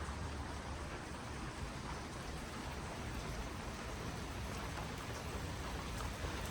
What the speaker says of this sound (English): Nice to get out of the rain a little bit.